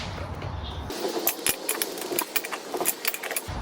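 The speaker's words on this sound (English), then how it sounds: "crack the bolts so that when she's in the air, you don't just have a spinning tyre" Metal wrench clinks and taps as lug nuts are cracked loose on a car wheel: a quiet engine-like hum for the first second, then a run of sharp, close metallic clicks and knocks.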